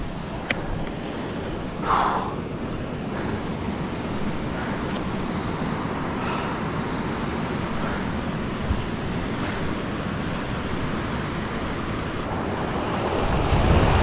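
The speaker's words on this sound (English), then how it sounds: "It's a waterfall." Waterfall at Forgotten Falls in Paluma National Park, North Queensland: a steady, broadband roar of falling water that stays constant throughout, loud and close, with some wind buffeting on the microphone.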